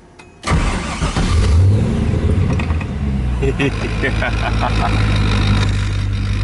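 A Nissan 240SS car engine runs while driving, a steady loud mid-pitched drone starting abruptly and holding with slight rises in revs, with interior rattles and talk mixed in.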